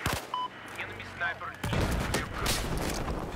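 Gunfire in the video game Battlefield 4, a dense stretch of crackling shots and booming bursts that swells partway through, mixed with game effects and a voice talking over it.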